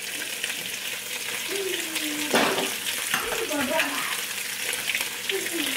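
Tofu and carrots hitting hot sesame oil in a pan: a steady, close sizzle with bursts of crackle and scraping as the pieces are stirred in.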